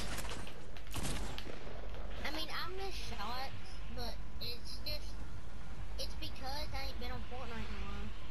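Rapid gunfire bursts from Fortnite play rattle through a busy game mix, with a voice talking over the shots for most of the stretch.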